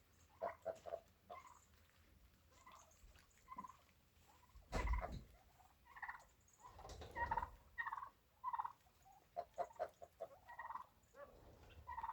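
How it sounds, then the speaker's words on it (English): Turkeys gobble in repeated bursts in a barn on a homestead, throaty warbling calls coming and going over about twelve seconds at moderate distance, with no one speaking. "Now I gotta feed the turkeys"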